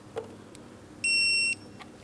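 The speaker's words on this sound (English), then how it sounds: "Let's tighten that mounting bolt. I've got my torque wrench" Torque wrench tightening a serpentine belt tensioner mounting bolt to 37 foot-pounds on a 2003-2007 Cadillac CTS 3.6L V6: a couple of faint clicks, then one clear half-second electronic beep up close.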